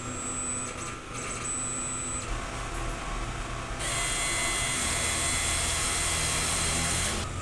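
A DTF printer runs a head clean cycle, giving a steady mechanical whir and then a loud sustained high pump hiss that starts partway through and keeps going to the end, with no one speaking.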